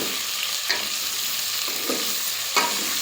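Potatoes and vegetables fry in oil in a pan while cooking sambar, a steady sizzle broken by a few sharp stirring scrapes.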